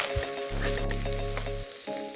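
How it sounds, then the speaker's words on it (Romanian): Chopped garlic sizzles steadily as it fries in oil in a pot for a beef stew, with a few scraping stirs audible over the constant close crackle. "Adăugați usturoiul și lăsați-l 5 minute, amestecând și având grijă să nu-l ardeți."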